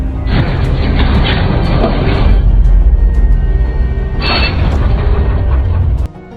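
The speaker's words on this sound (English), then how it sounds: "Soon, guards arrive, banging on the door." Guards pound heavily on a prison door, producing loud, deep booming thuds with a metallic, mechanical rattle. The blows come in two dense bursts and continue without speech until a sudden stop near the end.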